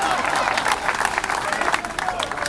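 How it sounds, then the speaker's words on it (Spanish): Applause ripples through a church congregation in a steady, moderately loud patter of many hands clapping, with a crowd murmuring underneath. "Un aplauso a la mesa para el señor Amén"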